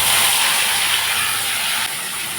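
Tomato, green chili and ginger paste sizzling in a hot pan while cooking matar ghugni, a steady loud close hiss that holds for the whole stretch and dips slightly near the end.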